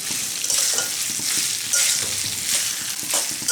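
Potatoes and shrimp frying in a pan for a poppy seed curry, with a loud, dense, continuous sizzle and busy clatter as they are stirred.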